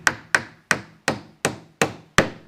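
Seven sharp hammer strikes on a nail driven into wood while building a crate, evenly spaced and close by, each a crisp knock with a short ringing decay.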